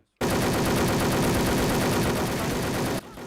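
Rapid, continuous automatic gunfire in a video game rattles loudly for about three seconds, then cuts off abruptly.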